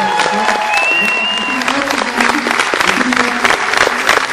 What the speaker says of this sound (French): le public t'a apprécié et peut t'applaudir.